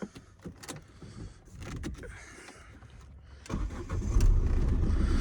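A Ford Transit Connect 1.8 TDCi diesel van engine cranks and catches, settling into a loud, steady low rumble after a few seconds of faint clicks and rustling.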